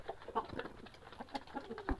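Hens cluck and mutter in short, busy bursts, a few birds close by with soft rustling in between.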